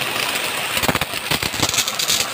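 A gas-powered power sprayer runs at full pressure, a steady loud engine drone with a hissing, rushing spray layered on top and a few uneven surges in level throughout.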